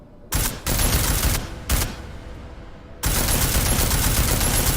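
Bursts of automatic gunfire from the video game Deus Ex: Mankind Divided, loud and close: two short volleys, a longer burst, then a sustained stream of rapid shots after a brief pause, with no talk.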